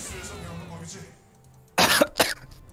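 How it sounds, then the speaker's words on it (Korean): A man gives two sharp dry coughs that clear his throat, close and loud, right after a stretch of quieter talking. "헛기침이 나오네요."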